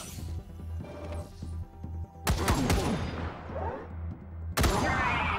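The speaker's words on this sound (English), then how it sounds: "Let's actually throw out a machine turret." Automatic machine turret gunfire in the video game Wasteland 3, with bursts of rapid shots and crashing impacts over a low game music drone, loud and close, the heaviest burst in the middle and another near the end.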